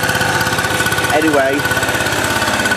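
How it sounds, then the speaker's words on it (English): A two-stroke portable generator engine runs steadily close by with a rapid, buzzy pulsing drone, while someone speaks briefly over it. "I shall now shut the generator down."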